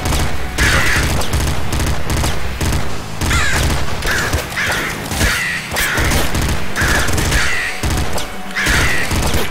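Rapid bursts of gunfire from the top-down shooter game Nuclear Throne, loud and continuous with repeated volleys and crashing impacts packed closely over a steady game soundtrack.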